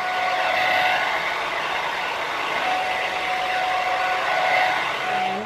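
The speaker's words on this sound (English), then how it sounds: "So the final step is to blow dry on a low setting," A handheld hair dryer blowing on a low setting, giving a steady airy whoosh with a faint whine that stays even throughout, close by and with no talking.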